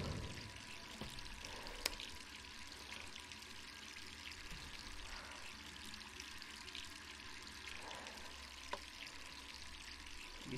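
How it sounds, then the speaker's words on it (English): Tap water running steadily in a bathroom in the video game Resident Evil 3 Remake, a continuous soft splashing pour with faint clicks, heard alone. "You left the water running again, Jill."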